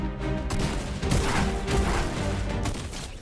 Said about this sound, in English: I have to just keep shooting.